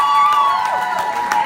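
A crowd cheering and whooping at a pinup pageant, a brief burst of excited voices that stays steady and fairly loud throughout.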